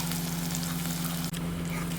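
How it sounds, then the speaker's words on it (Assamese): Onions fry in a pan before ginger and garlic are added, giving a steady, close sizzle with a constant low hum underneath and one brief dropout midway. "জালত তো পিঁয়াজখিনি অলপ ফ্ৰাই হৈ লওক তাৰপিছত ইয়াতে দিম মই আদা নহৰুখিনি"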